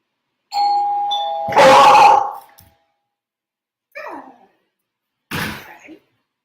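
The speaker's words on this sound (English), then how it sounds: "So there's a bark" A doorbell chimes its two-tone ding-dong close by, then a dog indoors at the door barks twice in short, separate bursts after a pause.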